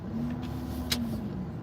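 Saturday road traffic heard from inside a car: a low, steady engine hum and muffled road rumble, with one brief sharp click partway through.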